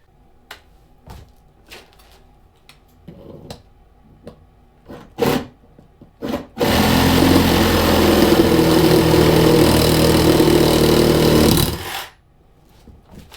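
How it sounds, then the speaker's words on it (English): A Sawzall reciprocating saw cuts a part for a DIY electric snow vehicle in a cold outdoor setting, with a loud, steady buzzing cut of about five seconds after a few scattered knocks and handling clatters. "let me sawzall that real quick"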